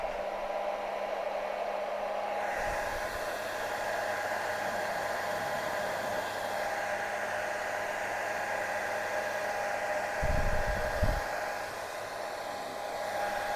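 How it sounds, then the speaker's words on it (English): A hair dryer blows with a constant whirring hiss, drying fresh roller-applied paint on a cheap car in a garage, running steadily throughout with a couple of brief low thumps near the end. "Oh, the hairdryer works a treat, actually."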